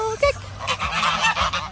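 A few geese honk close by as they are fed watermelon in Brazil, short nasal calls overlapping one another in a noisy outdoor setting.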